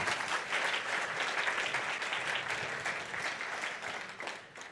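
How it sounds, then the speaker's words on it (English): A keynote audience at the Lattiverse 2025 event gives a sustained round of applause for Christina, a dense wash of many hands clapping at steady strength that tapers slightly toward the end. "A huge round of applause."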